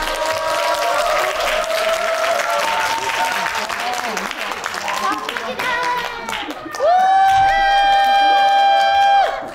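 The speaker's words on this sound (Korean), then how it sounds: "정롱님을 큰 박수로 맞아주세요." An indoor audience at a political forum on climate justice and system change applauds in sustained clapping to welcome a speaker, with cheering and voices over it and a swell of louder applause near the end.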